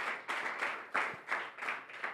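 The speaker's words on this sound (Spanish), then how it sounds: "Dele un aplauso a Dios" Applause from a church congregation during a sermon, a loose burst of clapping with rhythmic pulses roughly every third of a second, moderately faint and steady throughout.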